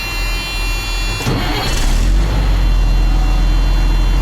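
A truck's engine starting: a brief whirring crank, then a catch into a loud, rumbling idle that settles and stays steady, close by with no talking.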